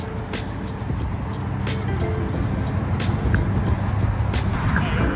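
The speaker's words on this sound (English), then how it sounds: "fucking car's running, man" A car's engine idles steadily nearby, a constant low rumble running throughout, with sharp ticking clicks popping over it and someone speaking now and then.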